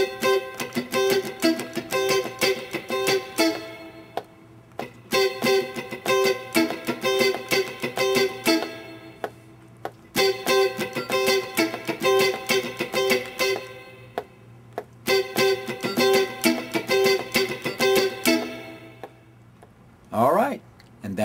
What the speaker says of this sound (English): That's our funky strumming pattern.